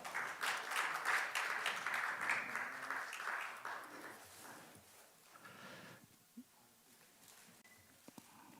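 Audience applause at a Korean sport management society academic awards session, steady dense clapping from a crowd that swells early and gradually fades out, with a few isolated claps at the end.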